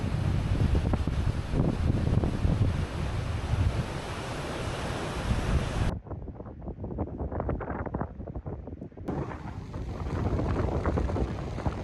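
Waves crash against rocks along a windy Sydney coastal walk, a loud continuous roar of surf with heavy wind buffeting the microphone, easing briefly midway before the crashing swell returns.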